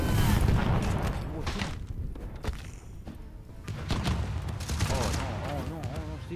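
Cannon fire strikes a Ronaldo character in the Totally Accurate Battle Simulator (TABS) game, producing dense booming volleys and heavy thuds over a rumbling battlefield din, with a faint voice in the background.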